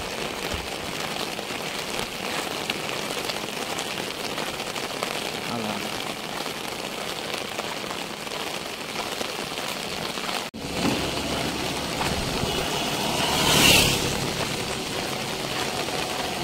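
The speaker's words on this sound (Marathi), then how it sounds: "बघा किती पाऊस आहे" Heavy village rain on a Sunday morning falls on trees and fields as a dense, steady hiss that lasts throughout. A faint engine hum runs underneath, and a sharper splash and clatter rises near the end.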